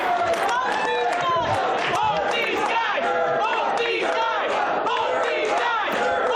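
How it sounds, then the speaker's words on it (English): A wrestling crowd roars and chants in loud, dense waves, many voices cheering together without pause throughout. "Oh, that's quite the noise coming from the crowd there."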